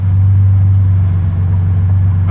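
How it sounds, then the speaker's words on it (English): A Nissan 300ZX Z32 engine idles steadily at close range after a cold start, its exhaust a smooth, deep, even drone with no voices, without the raspy sound of an exhaust leak. "We'll see what it sounds like on the outside. Certainly the raspiness, the exhaust leak sound is gone."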